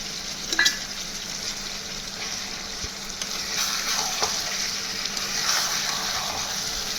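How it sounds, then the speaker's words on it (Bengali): Goat liver and onion frying with a garlic and green chili paste, a continuous close sizzle with occasional spatula scrapes and stirring, steady and moderately loud with no voices. "মেটে হজমিগুলো পেঁয়াজের সঙ্গে ভালো করে ভাজা ভাজা হয়ে গেছে।"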